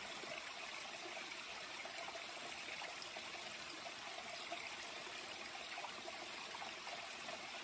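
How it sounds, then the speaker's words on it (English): Steady, gentle rush of a mountain stream along the Appalachian Trail near Moosilauke, flowing with a soft trickling texture, continuous and even throughout, with no voices. "listening to the water, it's very peaceful"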